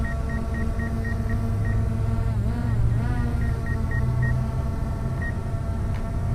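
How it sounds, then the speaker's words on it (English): A short electronic beep from a DJI Mavic Air 2 drone's obstacle sensor repeats in quick bursts, pauses, then resumes, over a steady low mechanical hum and rumble. "it's beeping at me because it sees me"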